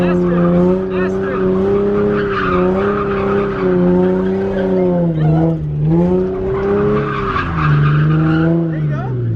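A car drifts with its rev limiter bouncing and its tires squealing loudly, sliding in long wavering skids as the engine note rises and falls, while people talk over the noise.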